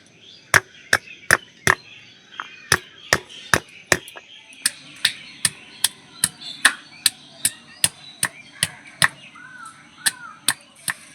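Turmeric pieces being pounded in a bowl, a sharp, regular run of about twenty-five close, loud knocks spaced roughly half a second apart, with no voice over them.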